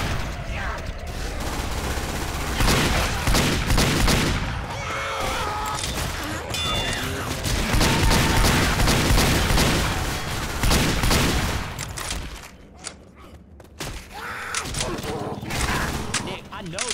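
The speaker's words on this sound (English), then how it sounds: "Nick, I know that was you shooting me." Video game gunfire in a multiplayer match with dense, overlapping bursts and rapid automatic shots running nearly throughout, with a short lull near the end before more firing; voices talk over the shooting.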